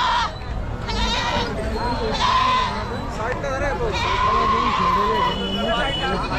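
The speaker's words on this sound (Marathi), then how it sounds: "आणि ही उस्मानाबादी शेळी आहे" Osmanabadi goats bleat repeatedly at a busy Maharashtra goat and sheep market, drawn-out cries rising over constant crowd chatter and background noise, close and loud.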